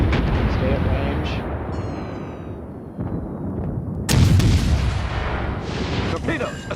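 A ship hit by torpedoes and destroyed in a multiplayer naval video game, rendered as heavy rumbling explosions and booms, with a sharp loud blast partway through, while a person talks over the action.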